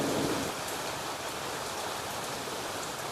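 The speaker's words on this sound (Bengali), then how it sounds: "দেখো বাইরে বৃষ্টি পড়া শুরু হয়ে গেছে।" Rain falls steadily outdoors, making an even, broadband hiss at moderate level that does not let up, with no talking over it.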